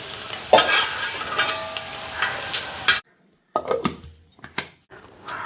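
Coconut pieces, cashews and raisins fry in ghee with a loud crackling sizzle and the scrape of a stirring spoon against the pan, then a cut to quieter intermittent scraping and clinks.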